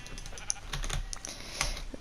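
Sheep in the Minecraft survival game give faint, short bleats over quiet computer-keyboard clicking.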